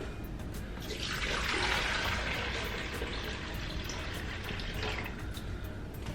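Water running steadily into a container, likely a tap filling a pot or bottle in a kitchen, a continuous rushing hiss that swells slightly midway and carries on without pause.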